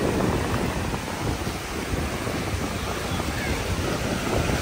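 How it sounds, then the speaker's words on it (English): Ocean waves at a beach on a windy day, a loud, continuous roar of surf mixed with heavy wind buffeting the microphone, with no clear breaks between waves. "It was a big wave, girl."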